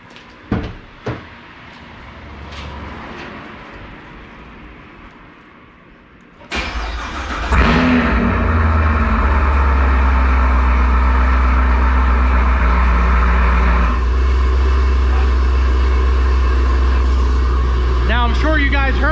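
A Chevrolet Camaro ZL1 with a straight-through exhaust cranks and fires into a loud, steady idle that fills the space close by, after a few quieter knocks and thumps beforehand.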